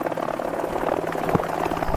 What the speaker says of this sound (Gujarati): એલા બહુ અવાજ કરે હેલિકોપ્ટર